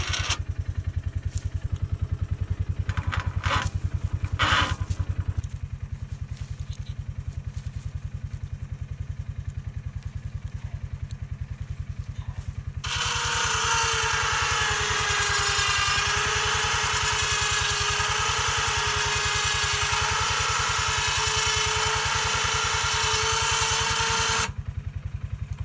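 A Polaris Ranger UTV idles with a low engine drone, joined by a brief clatter early on. Its winch then whines steadily and loudly for about twelve seconds as it pulls trees out, and the whine stops abruptly.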